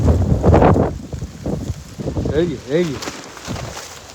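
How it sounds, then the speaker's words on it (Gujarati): Strong storm wind during a violent cyclone with rain gusts, buffeting the microphone in loud broadband roars. Voices shout over it and a raised, wavering call rises through the noise. "ફૂલ પવન, ફૂલ પવન."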